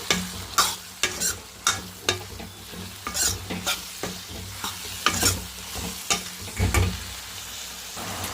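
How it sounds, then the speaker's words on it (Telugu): A spatula scrapes and stirs spiced curry frying in a pan with turmeric, salt and chilli powder, repeated rhythmic scraping strokes over a steady close sizzle, with no talking. "సాల్ట్ కూడా వేసేసుకున్నాం పసుపు సాల్ట్ వేసేసుకొని మొత్తం కలిపి వేసుకొని కారం కూడా వేసేసుకున్నాం"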